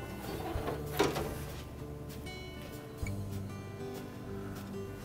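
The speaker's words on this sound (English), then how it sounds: "We'll lift up on the ice bin and auger assembly, remove that, we'll set that aside." Ice bin and auger assembly lifted out of a GE refrigerator's freezer compartment, with two distinct plastic clunks over a steady appliance hum and room noise; no talking.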